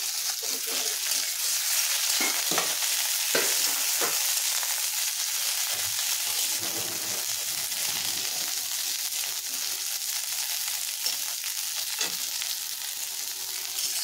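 Cauliflower and mixed vegetables fry in a pan with a steady, close sizzle throughout, broken by occasional scraping and stirring clatter.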